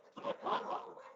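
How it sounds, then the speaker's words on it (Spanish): A small pet dog gives a few short yapping barks and whimpers, faint and somewhat distant indoors, in a brief burst. "Me escucharon a mi perrito por ahí."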